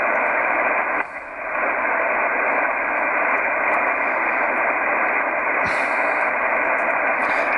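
A Rockwell Collins KWM-380 radio receiver tuned to the 80 meter band during the day gives off a steady, loud hiss of background static that continues unbroken, with only a faint momentary dip.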